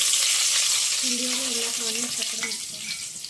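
Onions fry in a hot pan with a steady, loud sizzle and crackle, while a voice speaks briefly over it.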